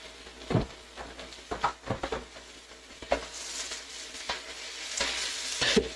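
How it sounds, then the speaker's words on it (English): Stir-fry sizzles in a hot pan from the Stardew Valley cookbook, a steady crackling hiss broken by sharp scraping and clattering stirs at irregular intervals, close and fairly loud, with no talking. "I know the mic's not gonna love the frying sound"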